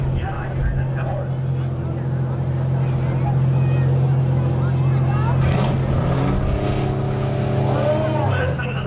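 A demolition derby car engine at a memorial derby in Bottineau, North Dakota roars and revs, a loud steady drone rising in pitch toward the end, with an announcer talking over it.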